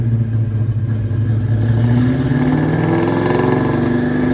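A boosted Ford Coyote V8 with a dead spot in its power band revs up steadily from low rpm, a loud close engine drone climbing in pitch over several seconds with no voices.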